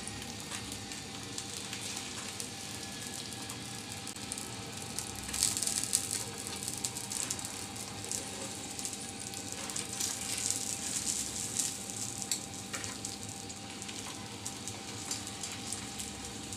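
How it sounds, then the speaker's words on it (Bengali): Potato-stuffed snacks frying two at a time on a small tawa, a soft, even crackling sizzle that runs steadily throughout, close by and fairly quiet, with a slight swell of spattering midway. "আমার তাওয়াটা যেহেতু ছোট, আমি দুইটা করে করে ভেজে নিচ্ছি।"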